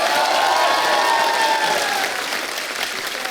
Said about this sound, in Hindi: शंकर सर के लिए एक बार जोरदार तालियां होनी चाहिए।